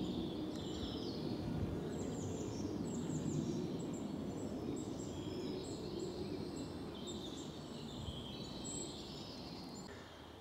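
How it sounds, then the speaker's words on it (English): Several woodland birds, including chaffinches, robins and hedge sparrows, sing and chirp at a distance over a steady, broad rushing background near Beaconsfield, the calls light and scattered throughout. "Some delightful bird song around"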